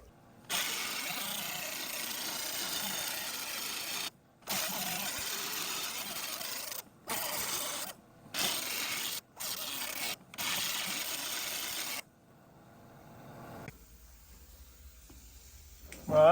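Angle grinding on a repaired fender of a 1968-69 Oldsmobile Cutlass 442, evening out welds: loud broadband bursts in several runs separated by short pauses, then fading to quieter shop noise near the end.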